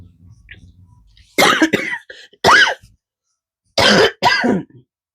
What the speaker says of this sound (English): Oh, I'm starting to get a cough again.